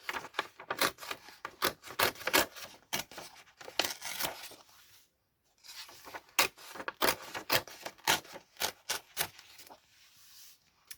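Pages are torn out of a book in rapid ripping strokes, a close, quiet run of papery tears with a short pause midway before more tearing.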